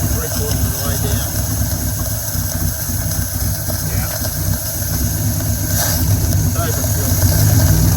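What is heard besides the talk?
1957 Ford F250 engine idling after restoration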